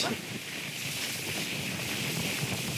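Strong wind roars across the microphone at sea off Port Dickson, a constant heavy rushing with waves underneath, close and loud throughout.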